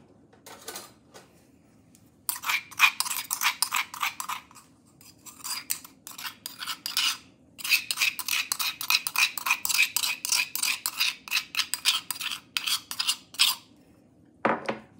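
Moringa leaf powder being stirred into water in a vessel for a homemade pesticide, giving fast, steady scraping and clinking strokes that go on in long runs with short pauses, close and fairly loud, with no talking.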